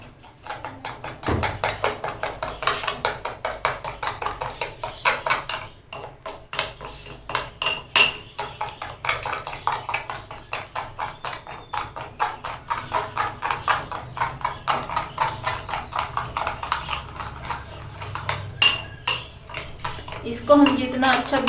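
Cake batter being beaten with icing sugar in a bowl for a fruit cake made in a sandwich maker, with a fast, continuous run of utensil clatter against the bowl close by and a faint voice now and then.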